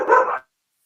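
A dog barks a single short bark up close, loud and alone, cutting off cleanly into silence.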